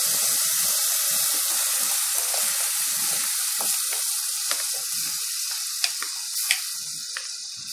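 Tomato juice poured into a hot pan for pizza sauce gives a steady, loud hiss of sizzling with occasional small pops and spatters, no voices present.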